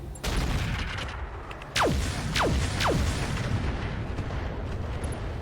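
LRM-20 missiles launching in a RogueTech BattleTech video game, three sharp whooshing launches in quick succession, each streaking off over a heavy rumbling battle bed, loud and close with no talk.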